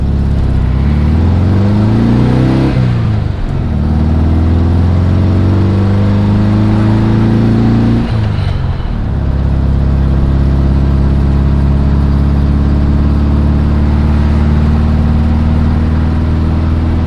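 An air-cooled Volkswagen with an EMPI Hurst-style shifter pulls away in first gear, its engine droning loud and close, rising in pitch as it accelerates, dipping briefly at a shift-like break, then holding a steady hum.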